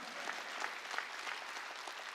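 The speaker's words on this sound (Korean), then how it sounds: "박수치고" A church congregation at a Wednesday worship service claps together, a steady dense wash of many hands that holds evenly at a moderate level throughout, with no voice on top.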